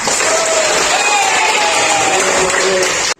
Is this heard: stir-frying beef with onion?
no